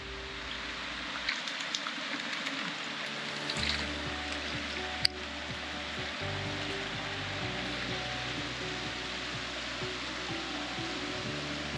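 Creek water on the Upper Chattahoochee River rushes steadily and fills the whole stretch with a close, even wash, with a single sharp knock partway through.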